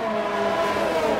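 Formula 1 cars racing in a video game at the Singapore Grand Prix street circuit, a loud high-pitched engine whine holding steady at speed for a brief moment.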